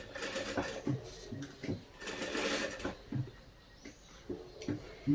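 A sewing machine stitches a game-controller-shaped pillow, running in short rhythmic bursts with brief pauses and clicks, fairly close.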